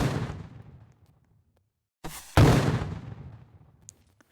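Gunfire in a Roblox GTA-style video game comes as two loud, sharp bursts with booming decays. The first shot opens the clip and fades into a second of silence; the second, heavier shot follows and rings out.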